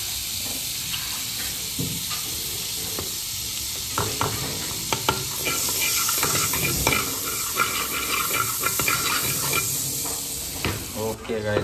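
Oil and butter sizzling in a pan while a spoon stirs and scrapes, with steady frying hiss and clinks throughout, close and fairly loud; pasta being cooked at home.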